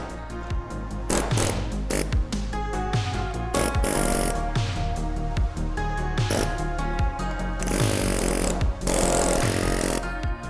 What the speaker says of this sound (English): I wanna talk about this Blair spot weld cutter